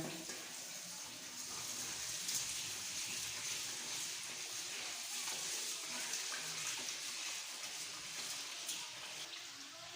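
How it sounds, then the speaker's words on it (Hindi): Rice is washed in water, giving a faint, continuous splashing and swishing that holds steady throughout, with no voices over it. "अब इसे धो लेते हैं।"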